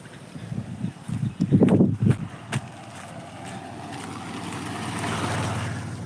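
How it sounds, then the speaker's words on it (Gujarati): Rainwater from the previous day's downpour rushes along through a village, a steady broad wash of flowing water, with a few louder splashing bursts early on, then an even, continuous flow. "આ કાલના વરસાદનું બધું પાણી છે"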